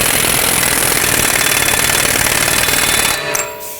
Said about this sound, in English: Put the axle nut back on. I'm going to bottom it out with my impact gun